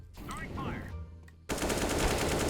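Rapid automatic gunfire in the video game CS:GO bursts out loudly after a short stretch of quieter game sound and a voice, then keeps going as a dense, continuous volley.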